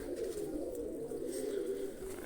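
Pigeons cooing in a low continuous murmur, steady and fairly close, with no talk over it.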